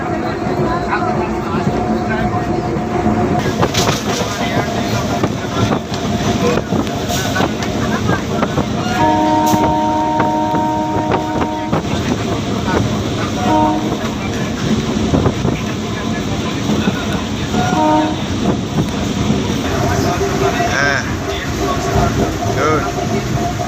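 Steady rumbling of a moving electric train on the Gede to Sealdah line near Kolkata fills the clip, with rattling and wind noise and occasional voices in the background.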